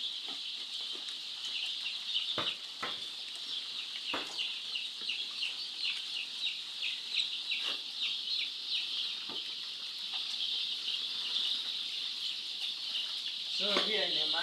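A dense crowd of chickens in a poultry house of about 5,000 birds makes a constant shrill chirping and peeping, with scattered sharp knocks and a few louder squawks, while someone speaks over it.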